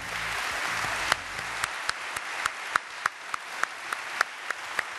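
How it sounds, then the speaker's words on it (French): Audience at an ELA awards ceremony applauding, starting as a dense wash of clapping, then thinning into a few distinct, rhythmic hand claps that stand out near the end. "Vous pouvez applaudir."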